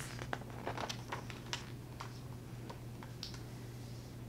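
Old typewriter typing, irregular sharp clicks and clacks, some in quick bursts and others spaced apart, close and crisp over a low steady hum.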